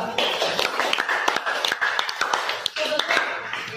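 A classroom group gives a round of applause for a presentation group, with steady dense clapping from many hands close by, lasting throughout under a faint murmur of voices.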